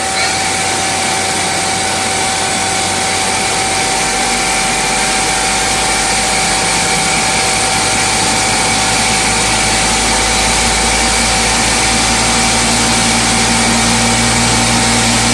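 CGF lathe chuck spinning up to 3,500 RPM during a dynamic grip force test, a loud steady mechanical whir with a sustained tonal whine that deepens as speed builds, with no talk.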